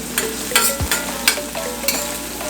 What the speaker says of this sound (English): go ahead and fry this until the onion gets a little bit glossy